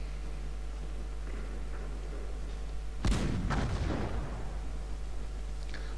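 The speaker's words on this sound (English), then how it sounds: "Damn, my god, the cannonball from that fortress." Cannon fire from a fortress in the strategy game Cossacks 2: a single heavy boom erupts midway over a steady low hum, followed by a rumbling, crackling tail that slowly dies away.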